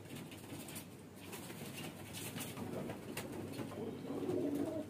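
Young highflyer pigeon, a red male and khaki female cross, gives soft low cooing at close range over a steady murmur of background noise, with no talk.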